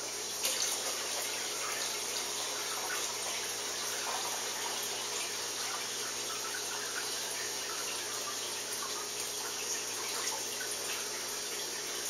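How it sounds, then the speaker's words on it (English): Room-temperature water pours steadily into a jar in a kitchen during kombucha brewing, a soft continuous trickling splash that runs evenly throughout, fairly quiet and close. "I have some room temperature water right here."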